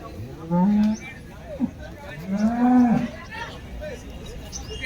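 HF cows moo a few times at a cattle market in Baramati, long low calls standing out over a murmur of people talking in the background.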